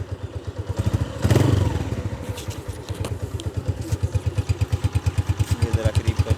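Honda CB125F motorcycle engine idling close by, a steady low rhythmic putter with a brief louder thump and clatter near the start and some handling noise over it.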